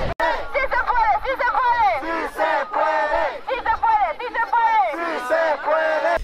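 Large outdoor rally crowd cheering and shouting together in loud, sustained waves of overlapping voices, with rising and falling chants throughout.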